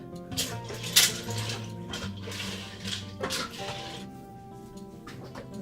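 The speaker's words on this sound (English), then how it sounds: "So I'm going to stir that up." Garlic parmesan mac and cheese being stirred in an Instant Pot, with scraping and clinking of a utensil against the pot in uneven strokes, close by and moderately quiet.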